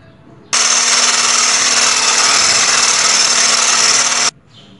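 An electric hand mixer whirs steadily as it beats orange cupcake batter, a loud, even buzz running nearly four seconds before cutting off abruptly.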